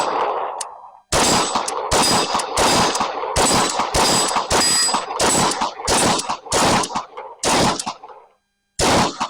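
Rapid string of close, loud shots from a SIG SP2022 pistol, about a dozen sharp reports in quick succession with brief gaps, ending after a pause with one final shot.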